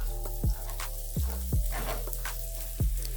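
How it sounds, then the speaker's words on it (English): Onions fry in cooking oil with a soft, steady sizzle, broken by several sharp scraping stirs or clanks of a utensil against the pot at irregular intervals. "Then I'm going to add in my onions and cook them until they are translucent."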